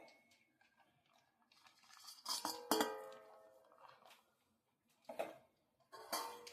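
A spoon mixes boiled potatoes into yogurt in a bowl with soft, scattered clinks and wet scraping, including a few sharper taps, heard close and quiet with no talking.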